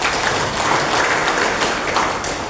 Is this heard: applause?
yes